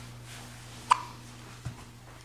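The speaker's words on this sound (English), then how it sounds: "Do you have the hiccups?" A young child gives a single soft hiccup, followed moments later by a faint second one, over a quiet indoor hum with a low steady tone.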